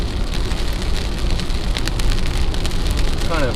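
Rain pattering steadily on a Jeep on a camping trip near Lake Superior, a dense close drumming with scattered sharper drop hits and a faint higher whistle near the end.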